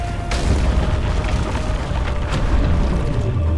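A deep, continuous booming rumble, like tremors tearing through terrain, sounds loud and dense throughout with no break.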